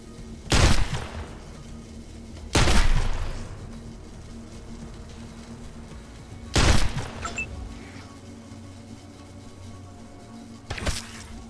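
Four heavy gunshots from a newly acquired weapon in the video game Wasteland 2 ring out, loud and booming with short decays and long gaps between them, over a faint background hum and no speech.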